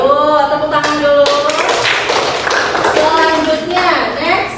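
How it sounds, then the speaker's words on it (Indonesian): Students in a classroom clap their hands together in a short burst after an art lesson question, with a teacher's and children's voices running over and around the clapping throughout. "Oke, tepuk tangan dulu."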